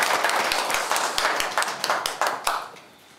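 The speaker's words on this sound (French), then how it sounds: "On applaudit quand même." Audience clapping at a political party meeting of the UDPS Ontario section, a burst of scattered hand claps, fairly close and lively, building and then tapering off near the end.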